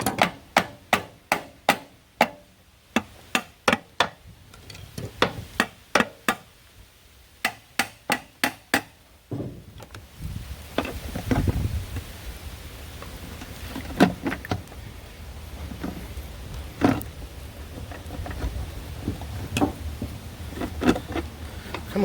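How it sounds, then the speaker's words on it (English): Bolts being pulled from a transfer case half during an outdoor teardown in the rain: rapid ratcheting clicks in bursts, then a clatter of metal knocks over a steady wash of rain, close and loud. "now let's see that I actually pull the bolts out"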